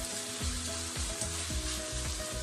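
Marinated Korean spicy bulgogi pork stir-frying in a hot pan, a steady loud sizzle broken by repeated scraping stirs about once a second, with no voices.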